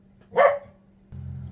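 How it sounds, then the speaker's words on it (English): A single short, high-pitched puppy bark pops out close by, followed by a faint low hum. "sorry about the barking puppy hang on"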